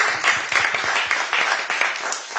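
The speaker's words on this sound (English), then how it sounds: "Let's give her a round of applause" Crowd at a town hall meeting breaking into steady, dense applause, loud and continuous throughout.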